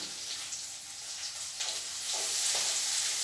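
Dried red chillies and curry leaves frying in hot oil, a soft crackling sizzle that grows slightly louder, with a few brief spattering bursts near the end.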